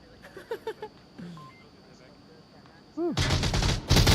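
Rapid bursts of automatic gunfire from a competitive match of the VR shooter Onward erupt loudly near the end, after quieter game beeps and tones, with commentators talking over the action.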